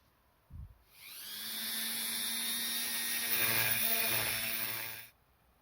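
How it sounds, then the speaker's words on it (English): A high-pitched Dremel with a sanding bit whines steadily for about four seconds, grinding inside a plastic Nerf blaster part, then stops abruptly. "I'll just get my Dremel sanding bit and just do the inside of it so this fits in."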